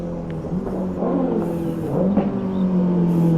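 A motorcycle engine revs up and drops back several times, pitch rising and falling as it shifts down, fairly close with no talking.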